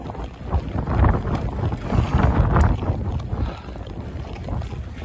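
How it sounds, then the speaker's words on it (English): Strong wind gusting over a microphone on a bike path, a broad, rumbling roar that swells and eases steadily throughout with no speech. "Windy day, windy day."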